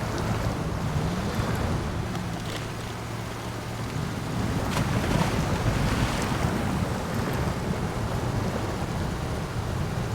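A truck in the SnowRunner video game pushes through water, a steady loud rush of splashing and churning with a low engine drone underneath, continuous for the whole stretch with no talk.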